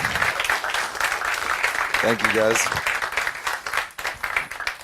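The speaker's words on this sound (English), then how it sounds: "Give a round of applause, please." A masterclass audience applauds in a dense wash of clapping as a DJ is welcomed on stage, with someone speaking briefly over the applause.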